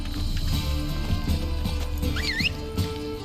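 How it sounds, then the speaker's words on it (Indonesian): A horse in The Witcher 3: Wild Hunt gives a short whinny over rhythmic hoof clip-clops and steady background game sound, with faint talk. "Lah mana kudanya?"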